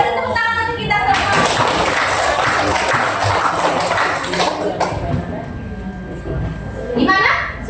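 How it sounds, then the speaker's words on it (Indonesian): Classroom full of children clapping together in a sustained burst of applause, close and lively, with a teacher's and kids' voices at the start and end. "tepuk tangan untuk kita semua"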